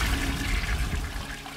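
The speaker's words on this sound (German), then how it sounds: "Spülung" Toilet flush in the video game The Baby in Yellow, a loud, close rushing gush of water that churns steadily before easing off.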